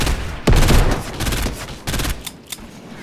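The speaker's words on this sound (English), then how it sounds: "Rocket launcher." Rocket launcher and gunfire in the Fortnite video game: a loud blast followed by a rolling burst of shots, then a second cluster of firing and a couple of sharp reports.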